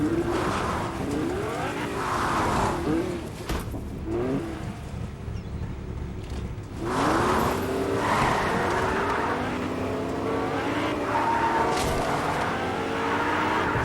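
Car engine in a video game driving continuously, with revving rises and shifting pitch sweeps, steady and loud throughout, with a brief dip near the middle.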